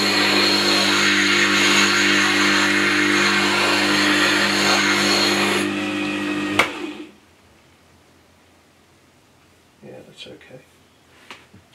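WG200 8-inch wet stone sharpening wheel running with a loud, steady motor hum and grinding whine that cuts off abruptly after about six seconds, followed by quiet room tone and a brief voice.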